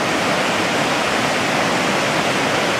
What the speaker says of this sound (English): This is the Zigzag River